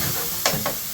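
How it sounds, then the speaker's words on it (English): Spices sizzle in hot coconut oil in a pan for a prawn Madras curry, a steady close frying hiss broken by a couple of brief stirring scrapes. "just let that sizzle"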